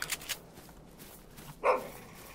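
An angry dog barks in theHunter: Call of the Wild during a pheasant hunt, giving a couple of quick sharp yaps at the start and one louder bark later, moderately close, with no talking.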